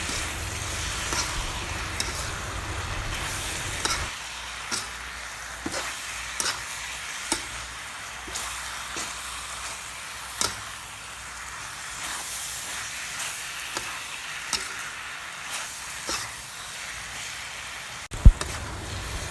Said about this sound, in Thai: เมื่อเราเคี่ยวหน้ากากหมูของเราจนได้ที่แล้วนะคะ